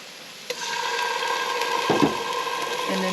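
Chili paste frying with chopped shallot and ginger as a curry base, a steady sizzle that begins with a sharp clack and carries scraping stirring sounds and a sustained tonal hum.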